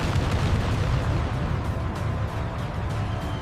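Heavy rumbling blasts and booming fire roll continuously, loud and dense, as if A-10 cannon fire strikes a T-72 tank that erupts in a massive explosion, with no speech heard.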